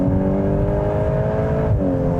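A 2025 Volkswagen Golf R engine pulling hard on a track, a loud, close, steady drone with a brief shift in pitch near the end, and no voices over it.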